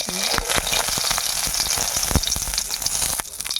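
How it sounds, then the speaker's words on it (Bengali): Small puti fish crackle and sizzle in hot oil in a village-style kitchen, a dense continuous spitting fizz with sharp pops and a few utensil knocks, close and alone with no talk. "এখন আপাতত ভাজার কাজ চলছে।"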